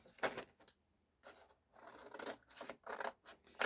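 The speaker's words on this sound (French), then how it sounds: "je prends mon ciseau" Scissors snip paper around a metal die in a die-cutting craft setup, in a few close, crisp bursts of cutting separated by short pauses.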